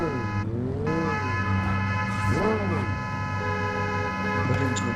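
A car arrives and drives up, its engine giving a steady hum at close range while people talk over it throughout.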